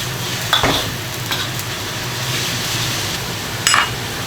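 Pork belly stir-fried in a hot wok, with fermented black beans, ginger and garlic, gives a steady sizzle and scraping stirs. Brief utensil clinks stand out near the start and again toward the end.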